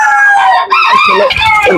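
A loud booted bantam rooster crow rings out up close, a long strained call that breaks into a rising, ragged finish.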